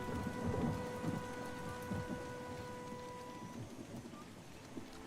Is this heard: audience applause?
no